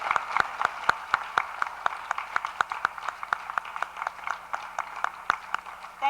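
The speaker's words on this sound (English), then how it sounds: "Let's just have one round of applause for all of these wonderful inductees." Audience applause for honor society inductees at a 2003 language honor society induction ceremony, steady crowd clapping with sharp individual claps standing out, moderately loud and continuous throughout.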